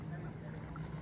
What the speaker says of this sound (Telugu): వాళ్ళు బోట్ వేసుకొని వస్తున్నారు చూడు